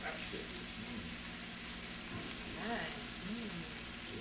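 Lobster and shrimp frying in oil, a steady soft sizzle throughout with faint voices underneath.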